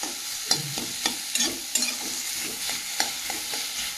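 Potatoes fry in a pan as they are stirred, with rhythmic scraping strokes and knocks of the spatula over a constant close sizzle, fairly loud and with no talking.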